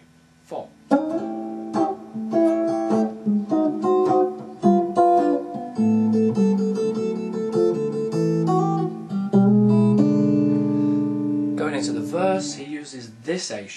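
An acoustic guitar picks out the intro to a song, clear, close plucked notes and bass runs in a loping blues rhythm, played alone without talk.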